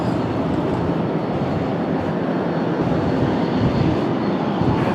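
A Boeing 777 airliner, United 919 from London, roars steadily and loudly at Washington Dulles airport on a cloudy day, a continuous broadband engine rumble with no talking.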